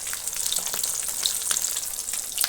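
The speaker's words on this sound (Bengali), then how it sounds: "ভাতটা হয়ে গেছে আর মাছ ভাজা করছি" Fish fries in hot oil in a home kitchen, giving a steady close sizzle with scattered pops and spits.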